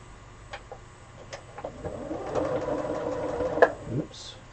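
A sewing machine stitching a quilt block bogs down, its motor straining with a low labored rattle that builds and sputters, mixed with a few faint clicks and quiet talk.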